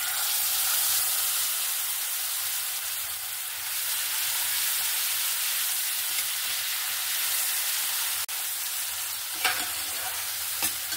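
Spice masala with Kashmiri chilli powder sizzling in hot oil for a black pomfret fish curry, a continuous loud hiss with soft stirring scrapes and a few sharp clicks toward the end.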